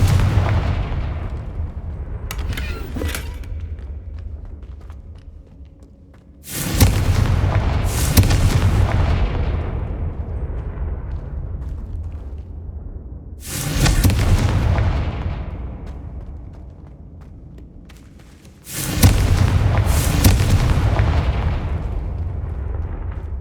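Four loud booming blasts of the Confringo explosion spell in Hogwarts Legacy, each a sudden broadband burst that rumbles and decays over several seconds, spaced a few seconds apart with no talk.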